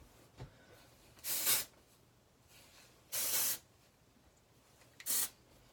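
Three short bursts from an aerosol can of hairspray sprayed onto hair, each a sharp hiss lasting under a second, separated by quiet pauses.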